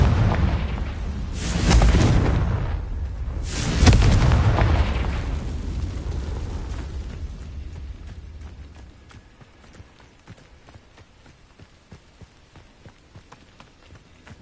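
Two booming fire-spell blasts of Confringo in the Hogwarts Legacy video game, each a loud low burst that rolls off into a fading rumble, followed by faint scattered clicks and footfalls.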